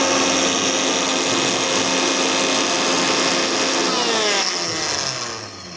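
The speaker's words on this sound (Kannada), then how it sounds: "ಆಗ್ತಾ ಇದೆ ಪುಡಿ ಮಿಕ್ಸಿಲಿ" A kitchen mixer grinder whirring as it grinds spice powder for milk sambar, a loud, steady motor whine that shifts in pitch near the end and then winds down, with no speech.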